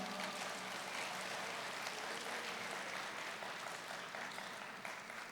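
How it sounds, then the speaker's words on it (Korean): Audience at an opening ceremony of a self-advocacy convention in Busan applauding steadily, a dense continuous wash of clapping filling the hall. "여러분 다시 한번 큰 박수 보내주세요."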